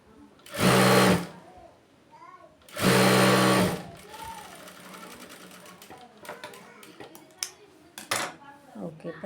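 A sewing machine stitches a blouse in two loud, close, steady whirring runs of about a second each, followed by quieter clicks, fabric handling and light clatter.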